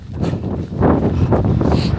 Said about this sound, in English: Sorry about the wind, guys. You can see how windy it is.